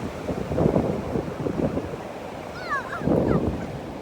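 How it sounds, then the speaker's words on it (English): Atlantic Ocean waves wash onto a beach in slow surges of broad rushing noise under steady wind rumble, with faint high voices or cries briefly in the distance. "The wave is very far."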